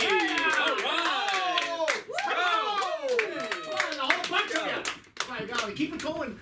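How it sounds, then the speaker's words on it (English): Open-mic comedy audience applauds a comic, clapping mixed with loud whoops, cheers and overlapping voices, steady and close throughout with a brief dip midway. "Give you a round of applause for Patty!"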